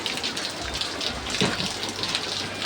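Steady rain falls at midday, a dense broadband hiss of drops striking surfaces nearby that carries evenly and alone for a few seconds.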